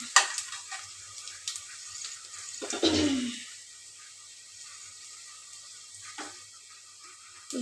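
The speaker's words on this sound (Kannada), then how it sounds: "ಈರುಳ್ಳಿ ಎಲ್ಲ ಫ್ರೈ ಆಯಿತು" Onions frying in a pan for a fresh field bean sambar, a soft steady sizzle with stirring scrapes, one louder stir burst near the middle, heard close with no talking.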